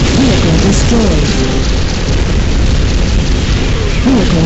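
Vehicle explosion in the video game Unreal Tournament 2004, a loud, dense blast of booming rumble that fills the whole stretch, with game effects layered over it and no clear talk.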